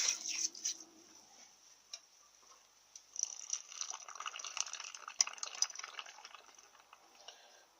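Water splashes and trickles over a cast iron Powerglide torque converter part as it is washed, faint intermittent dripping and splashing with brief clicks, quieter at first and busier in the second half.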